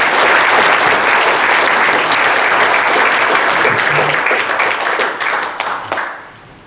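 A forum audience at an inauguration ceremony bursts into loud, sustained applause that keeps an even roar for several seconds and then thins out and fades away near the end.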